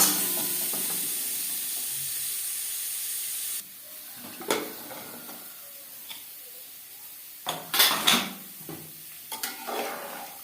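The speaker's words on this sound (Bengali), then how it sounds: "লবণ হলুদ দিয়ে আলু ভেজে নেব" New winter potatoes fry with salt and turmeric for a mutton curry. A broad hiss fills the first few seconds, then the sizzle drops lower and utensils clatter against the pan in scattered bursts.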